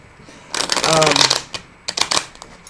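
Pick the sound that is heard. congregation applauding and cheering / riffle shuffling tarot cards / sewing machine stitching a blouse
riffle shuffling tarot cards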